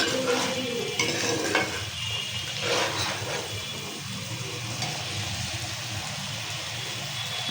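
Spices sizzle as they are fried and stirred in a pan for a fish and taro-root curry, a constant soft hiss with occasional scraping strokes, close and moderately quiet.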